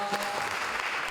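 A brief burst of audience applause at a broadcasting event at a vocational school in Jember, a faint scatter of clapping hands.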